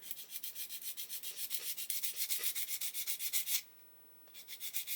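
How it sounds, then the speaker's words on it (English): Rhythmic, scratchy rasping strokes of a coarse sanding stick on a 1:6 scale Mustang GT500 model, steady back-and-forth for several seconds, stopping briefly, then resuming. "take a coarser sanding stick and we're going to remove"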